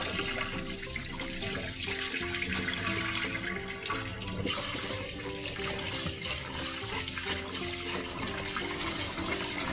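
Dark purple glutinous rice being washed in water, heard as a steady close rush and slosh of running and swirling water with no pauses, loud throughout.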